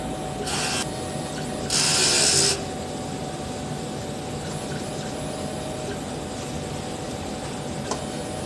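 A DTF printer runs its print-head cleaning cycle: two short, bright whooshing bursts of pumping over a steady mechanical hum, then a faint click near the end, with no talking.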